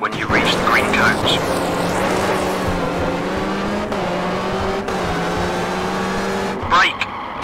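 A rally car in Richard Burns Rally accelerates at full throttle, engine note rising and holding loud and steady through gear changes, with a voice speaking over it at times.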